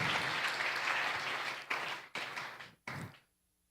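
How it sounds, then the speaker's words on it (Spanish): A church congregation applauds loudly in a steady wash of clapping that breaks into a few fading bursts before dying away to quiet. "Dale un aplauso fuerte a Dios"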